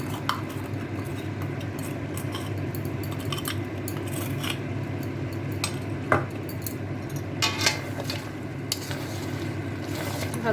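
Mutton is stir-fried in a pan with yogurt and spice paste: a continuous close sizzle runs under repeated clinks and scrapes of a utensil against the pan, with no voices.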